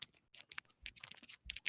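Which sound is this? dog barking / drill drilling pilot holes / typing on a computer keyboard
typing on a computer keyboard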